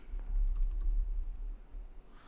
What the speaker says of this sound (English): I was typing on the wrong computer right now.